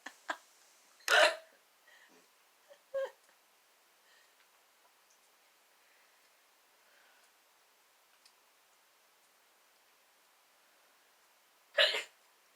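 A person hiccups in a few sharp, abrupt bursts scattered across a quiet room, with long silent gaps between them and one last loud hiccup near the end.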